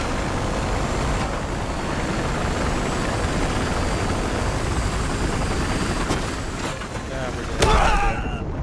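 Helicopter in a Battlefield Hardline match, a steady rotor and engine drone filling the scene, with gunfire crackles and other game noise toward the end.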